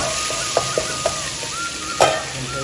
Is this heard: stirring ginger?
yes